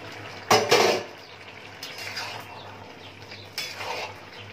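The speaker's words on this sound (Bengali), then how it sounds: "ঢাকনাটা সরিয়ে দেবো, দেখি কতটা সেদ্ধ হয়েছে।" A metal lid is lifted off a cooking pot with a short clatter and scrape, followed by softer clinks and faint bubbling.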